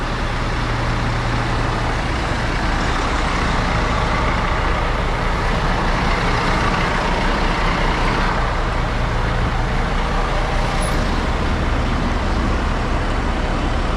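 A truck working out of deep, buried mud: a loud, continuous, close engine roar that holds steady with little variation and no clear pauses.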